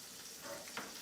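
Sauce sizzling and crackling in a pan while making chicken parmesan, a brief, faint steady hiss with one small crackling burst near the end, no voices.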